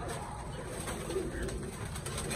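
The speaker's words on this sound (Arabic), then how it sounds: "حمام، في حمام يا جماعه هنزله" Pigeons coo in a loft, soft low coos faintly audible beneath a constant noisy background hiss and rustle, steady throughout.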